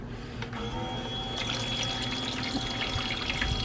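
Water in a small toy play sink at home, a soft steady trickling and splashing that runs through the whole moment, fairly close with light clinks over it.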